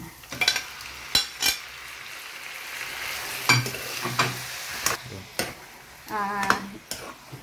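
Chicken with sautéed onion and ginger fries in a pan, a soft continuous sizzle broken by repeated scraping and clinking of a utensil against the pan, close up and fairly quiet.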